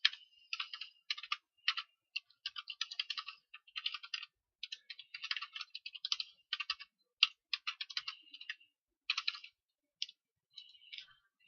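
Fingers type on a computer keyboard filling in a form, producing close, crisp clicking keystrokes in irregular bursts with short pauses between words, alone with no talking.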